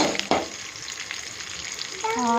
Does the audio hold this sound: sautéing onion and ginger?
yes